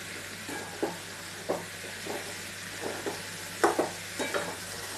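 Boiled chickpeas frying in a pan for masala sundal are stirred, giving scattered scraping knocks every half-second or so over a soft, steady sizzle, with no talking.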